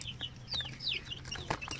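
Eighteen-day-old Shamo Aseel chicks give high, faint chirps and peeps over a low hum, close by and repeated in short, uneven calls.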